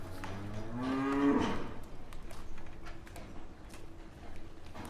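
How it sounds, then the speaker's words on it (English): A Montbéliard cow at an abbey farm gives one loud, close, drawn-out moo, followed by quieter barn ambience with faint clicks and shuffling. "The Abbey's cows are of the Montbéliard breed."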